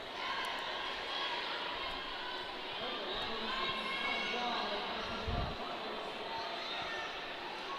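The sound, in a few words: crowd noise at roller derby World Cup, Event City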